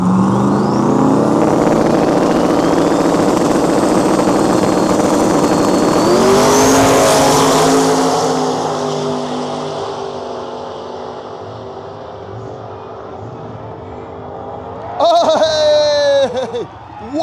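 Drag race cars, a BMW against a Fox Body Mustang, roar loudly at full throttle as engines rise in pitch, then fade into the distance; a sharp burst of high-revving engine noise and crowd or commentary returns near the end.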